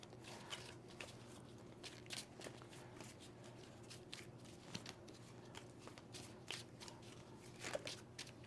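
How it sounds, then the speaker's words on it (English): Magic: The Gathering card decks are shuffled by hand at a table, giving repeated soft riffling flutters and quick snapping clicks in irregular bursts, close and quiet, with no talk. "But let's shuffle our decks to start."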